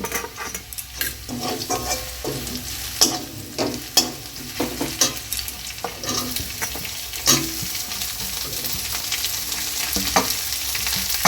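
Chopped garlic and onion fry in a kadai, stirred with a utensil that scrapes and clatters in irregular bursts over a steady close sizzle; no one speaks.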